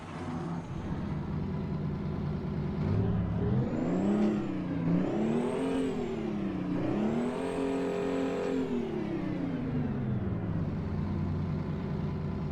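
Mack R truck engine in American Truck Simulator revving steadily, its pitch rising and falling in repeated swells over a constant drone, loud and close with no talking.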